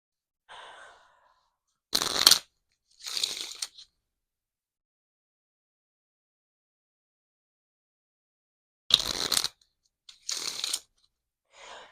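A deck of tarot cards is shuffled in several brisk riffling bursts, two pairs of quick, crisp shuffles separated by a long quiet gap, close up with no talking.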